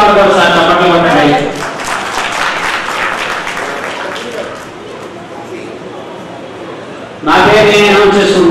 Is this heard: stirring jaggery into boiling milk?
no